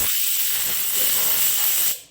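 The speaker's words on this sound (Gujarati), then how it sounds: "હવે આપણે આ મિક્સર જારમાં પીસી લઈશું" A loud, steady whirring grind of a kitchen mixer grinding onion and tomato for gravy runs for about two seconds, then cuts off abruptly.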